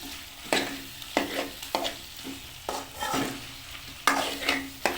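Spice mixture being stirred in a frying pan for a chicken dish, with repeated scraping strokes over a steady sizzle, each stir landing loud and close at irregular intervals.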